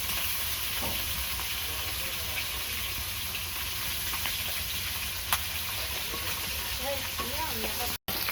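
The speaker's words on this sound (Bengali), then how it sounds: "এই যে মাছ ভাজি করতেছি" Fish frying in a pan in a home kitchen, giving a steady, dense sizzle that runs unbroken and fairly close, with a brief cut to silence near the end.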